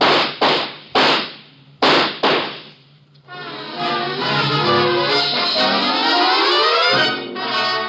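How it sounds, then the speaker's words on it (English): Gunshots in a radio drama: several sharp, loud cracks fire in a quick irregular burst, followed by a dramatic music sting that swells and holds. "Shoot him, Ruba."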